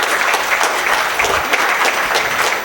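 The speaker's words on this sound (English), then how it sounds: "Let us all give a big round of applause and welcome Sir" Conference audience giving a round of welcoming applause at the inaugural session of a tax conclave, loud, close and continuous clapping throughout.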